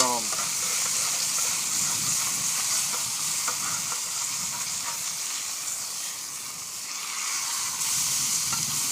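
Bacon-wrapped venison backstrap sizzles steadily on a hot grill over a fire, a close, continuous crackling hiss with occasional scraping from turning the meat.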